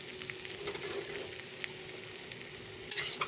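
Spice masala frying and sizzling steadily in a pan, a continuous close crackle with a few brief louder pops and clinks near the end, no talk.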